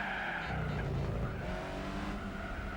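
Car wheelspin and tire skidding in Gran Turismo 4 on a rally course, a loud continuous engine roar with screeching tire squeal over it, close and sustained.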